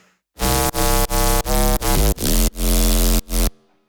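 A thick, buzzy synth lead plays a run of punchy, rhythmic notes in a low register, loud and up front, then cuts off.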